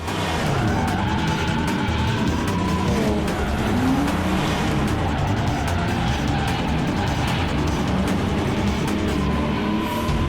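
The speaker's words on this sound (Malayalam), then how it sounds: "സൂപ്പർ സ്പീഡോ, ആ കാർ വളരെ സ്പീഡായിട്ട് പോവാണ്." A cartoon car, Super Speedo's, races away at high speed: a loud, sustained engine roar with a tire-squeal sweep and shifting whine, steady and close throughout.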